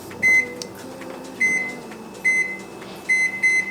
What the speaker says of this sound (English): Oh, I gotta put a timer on.